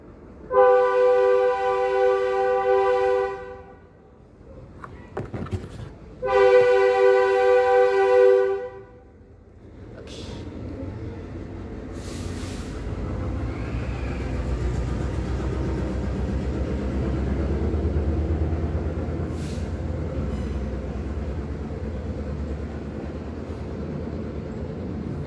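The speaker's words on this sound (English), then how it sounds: "Hear the train." A train sounds two long, loud horn blasts a few seconds apart, then rumbles past in a low, steady roar that carries on for some time.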